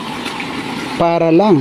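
Water runs from a tap in a rural province near Mayon Volcano, a steady rushing flow, fairly loud and close, with someone speaking over it near the end.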